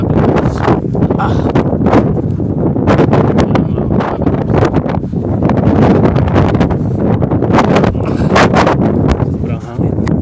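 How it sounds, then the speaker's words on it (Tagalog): Strong, loud wind gusting and buffeting the microphone continuously at Dingli Cliffs, the highest part of Malta, with a person speaking intermittently underneath. "Sobrang hangin."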